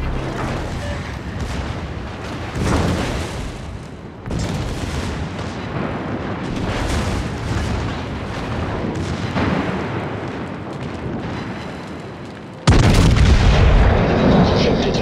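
Main guns of a German battleship firing in World of Warships, a series of loud, deep booms rolling into rumbling blasts, with a final heavy salvo close and loud.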